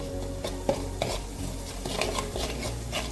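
Tilapia curry ingredients frying in a pan, a steady close sizzle with a spoon stirring and scraping against the metal in repeated strokes, no voices.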